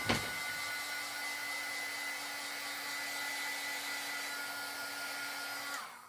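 A heat dryer blows on freshly stamped ink with a steady, loud whirring hum that switches on abruptly and runs evenly for several seconds before cutting off near the end.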